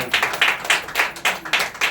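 A church congregation claps in a quick, even rhythm, about seven sharp claps up close and fairly loud, with no talking.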